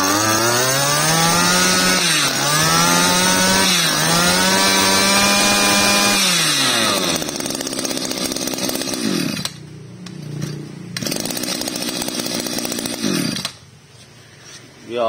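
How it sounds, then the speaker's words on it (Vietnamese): A 34 mm brush cutter engine runs loud and close, its two-stroke whine revving up and down in repeated sweeps before settling into a steady high drone, briefly cutting back twice to a lower idle. "Ông chùm của máy cắt cỏ 34 ly nghe anh em."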